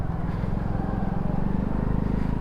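A motorcycle engine idles or runs at low revs on a muddy track, a close, rough, pulsing drone that holds steady the whole time with no one talking.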